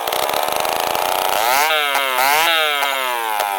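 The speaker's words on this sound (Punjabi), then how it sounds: "ਚੈੱਕ ਕਰੋ ਸਿਸਟਮ ਚੱਲ ਰਿਹਾ ਜੇ ਪੱਖਾ ਪਾਣੀ ਕੱਢਣ ਵਾਲਾ।" A diesel engine running a water pump on a farm, a loud, close, steady buzzing drone that rises in pitch and revs up partway through, alone without talk.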